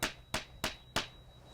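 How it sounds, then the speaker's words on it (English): A small hammer drives a nail into the wood of a pecan tree graft, four sharp close taps at roughly even intervals, each with a short ringing decay. "with a small hammer, so we don't beat up the wood,"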